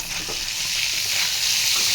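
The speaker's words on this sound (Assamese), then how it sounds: "অমিতা আৰু আলু আৰু বুট ভাজি আছে" Soybean chunks, potatoes and chickpeas frying in hot oil give a loud, steady sizzle that holds without a break, with no voices over it.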